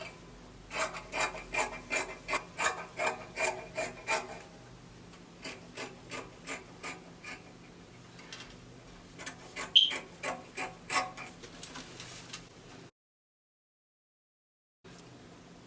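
Scissors cut out dress fabric pieces for a gathered spaghetti-strap dress, making a run of rhythmic close snips. The snips slow and spread out, then stop, and a brief silence closes the passage.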